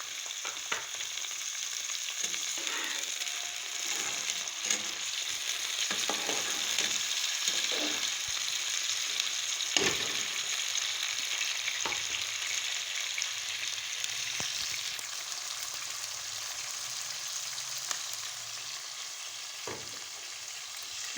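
Lightly browned onions sizzling in a pan as tomatoes and green chillies go in for aloo tinda sabzi, a steady frying hiss with scattered clicks and scrapes of stirring, close and with no talk.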